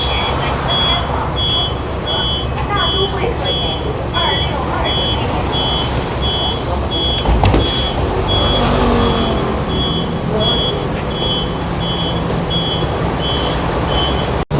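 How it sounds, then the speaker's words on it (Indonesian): A bus idles and moves nearby on a cold, sunless street, with reversing beeps pulsing steadily over a loud, continuous engine rumble and traffic noise, and a brief hiss partway through. "Ini ada bus."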